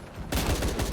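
Rapid gunfire in Shadow of the Tomb Raider, a loud burst of shots kicking in after a brief quiet moment and continuing in a dense, close rattle.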